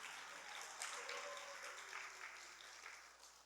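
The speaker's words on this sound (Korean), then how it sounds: "여러분 총장님께 감사의 박수 한번 부탁드립니다." A chapel congregation at a Methodist seminary opening worship gives thanks with applause, a dense, even wash of many hands clapping that stays level for several seconds before starting to fade.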